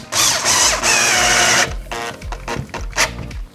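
Power drill driving a screw into a wall to fix wooden slats for a TV wall: a loud, close whine for about a second and a half, then a slower ratcheting grind with short bursts as the screw seats.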